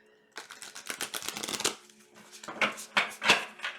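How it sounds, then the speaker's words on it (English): A round tarot card deck riffles and flutters in quick, close bursts, several shuffles in a row with brief pauses between them. "I'm learning how to shuffle this round deck."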